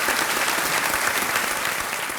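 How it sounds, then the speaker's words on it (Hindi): Sustained applause from a studio audience welcoming a contestant on a Hindi TV quiz show, steady dense clapping throughout without pause. "तालियों के साथ हम आपका अभिनंदन करते हैं।"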